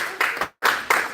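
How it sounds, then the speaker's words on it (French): A church congregation claps for Jesus at a Sunday service, with two quick bursts of brisk applause split by a short silent gap. "On dit applaudissons pour Jésus."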